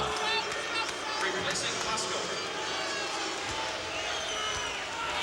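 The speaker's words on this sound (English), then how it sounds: "It's the most noise we've heard from this crowd in quite some time." A basketball arena crowd at Notre Dame during a 1998 UConn men's game, roaring and cheering steadily in a dense wash of noise while a commentator talks over it.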